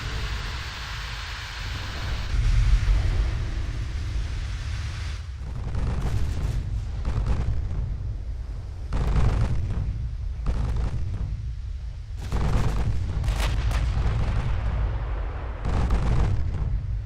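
Naval 8-inch guns firing in Ultimate Admiral: Dreadnoughts, a series of deep booming blasts in irregular bursts over a constant low rumble, loud and close with no voices.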